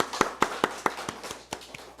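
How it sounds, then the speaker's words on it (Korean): A church congregation gives a short round of thankful clapping during a Sunday morning worship service, about ten distinct claps in an uneven rhythm that fade toward the end, heard near and fairly clear. "우리 예수님께 올려드리는 박수였어요."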